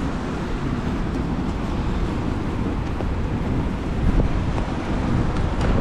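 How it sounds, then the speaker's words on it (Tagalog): Wind gusts across a microphone outdoors on an Osaka street, a steady, close, rushing roar that fills the whole stretch with only slight swells and no voices. "Medyo mahangin."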